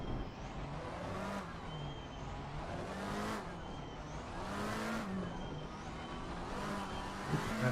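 A Bentley race car in Assetto Corsa Competizione at Brands Hatch drones steadily near the listener, its engine note rising and falling in repeated rev swells between gear changes, with no talking.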